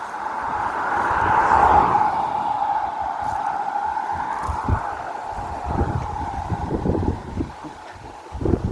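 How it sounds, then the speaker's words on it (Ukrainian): Steady wind whooshes through trees in broad gusts, with some low buffeting on the microphone and faint rustling throughout. "Сьогодні вітер, дерева гудять, шумлять"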